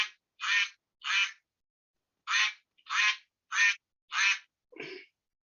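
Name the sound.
duck quacking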